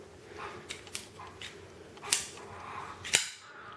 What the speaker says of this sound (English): As you can hear, locks very solidly.